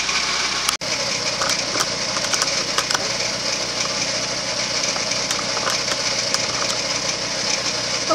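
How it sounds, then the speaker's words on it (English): A generator runs steadily outdoors near a home canning setup in the evening, a continuous engine drone with light rattling vibration, loud and unbroken apart from one brief dropout near the start. "you can hear the generator running"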